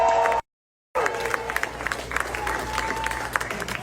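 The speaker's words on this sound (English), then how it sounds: "the crowd, of course, was cheering and screaming" Crowd at a comedy show cheering and clapping loudly, a dense wash of applause and screams after a brief cut to silence, with some voices mixed in.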